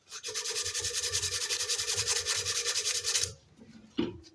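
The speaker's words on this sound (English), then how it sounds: "It's a little roll of like this sticky sandpaper, and it works really well for finishing" Rapid back-and-forth sanding strokes with a roll of sticky sandpaper on a wooden screwdriver handle, a close, rhythmic rasping of about three seconds, then a brief pause and a single scrape.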